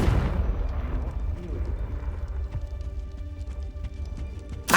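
A Confringo fire spell explodes in the Hogwarts Legacy game, a heavy boom at the start fading into a rumbling, crackling tail, with a second sharp burst at the very end.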